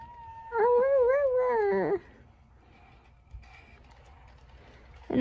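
A Sony Aibo ERS-1000 robot dog gives a warbling, whimpering bark-like call for a couple of seconds, then quiet hum, then a rising coo at the end.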